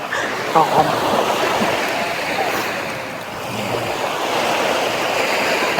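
Ocean surf washes steadily onto a beach in Panama, a broad continuous hiss of breaking waves at moderate loudness, with brief faint voices mixed in near the start.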